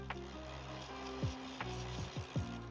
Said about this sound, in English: I tried to sand it down by hand at first, but decided that the rotary tool was also the way to go